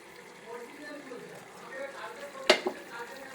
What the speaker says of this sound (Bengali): এখন এই কাজু বাটাটা আমি দিয়ে দেবো